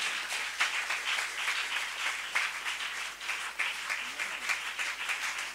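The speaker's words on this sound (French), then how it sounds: "si tu veux acclamer, ne te retiens pas. Acclame ton Dieu." A church congregation claps continuously with scattered cheers, a fairly distant, steady wash of applause with faint voices underneath.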